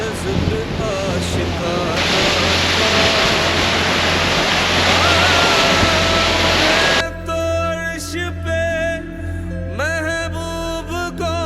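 Steady roar of a waterfall in Iceland, loud and close with wind buffeting the microphone, after which singing comes in over the rushing water.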